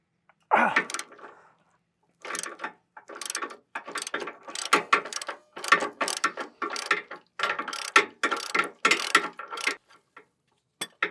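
Close metallic ratcheting clicks come in quick irregular bursts with short pauses as a breaker bar works the tight 21 mm lower engine mount nuts loose on a 2004-2008 Ford F150 with a 4.6L or 5.4L engine.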